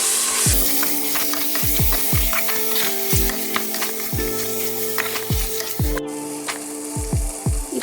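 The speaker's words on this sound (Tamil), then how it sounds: "அப்புறம் 2 தக்காளி. எல்லாத்தையும் நல்லா வதக்கி எடுத்துக்கோங்க." Tomatoes and Kashmiri chili powder sauté in a cooker with a steady, loud sizzle and frying crackle, broken by repeated scraping stirs of a spoon against the pot, with no talking.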